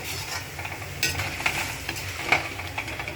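Tomato, coriander and onion-garlic-ginger paste sautéing in a pan, a soft steady sizzle with intermittent scraping stirs of a spatula, close and fairly quiet.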